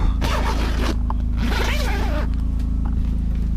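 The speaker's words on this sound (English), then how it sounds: "So it's a zipper kind of a system. You know, you just zipper it up." A zipper pulled closed on an RV tarp, two distinct zipping strokes, close and loud over a steady low hum, with no talking.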